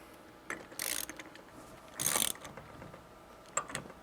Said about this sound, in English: tighten the bolt until the bearing bottoms out